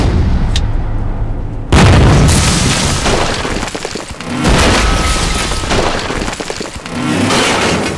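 Engineers blow up a bridge in a wartime battle, with a loud sudden blast followed by roaring, crackling debris and further booming rumbles that swell and fade over several seconds.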